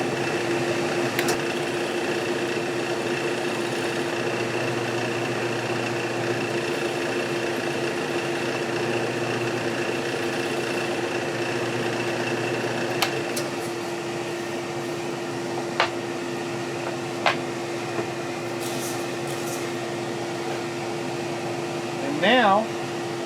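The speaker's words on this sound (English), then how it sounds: "drill a countersink hole right in the middle" Power drill boring a countersink hole in wood for a jig knob: a steady, even motor whine that runs continuously, with a few faint clicks near the end.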